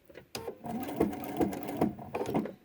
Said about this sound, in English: and sew off the corner